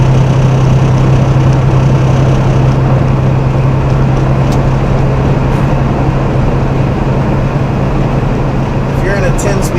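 Semi truck with a 13-speed manual transmission climbing a hill on I-80 at Elk Mountain, Wyoming, in 12th gear, a steady heavy low engine drone from inside the cab under someone talking.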